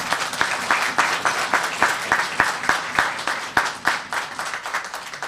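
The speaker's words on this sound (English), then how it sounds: "I do have to ask you to control your applause" An audience at a planning commission meeting applauds, a loud, sustained patter of many hands clapping nearby that carries on steadily without letting up.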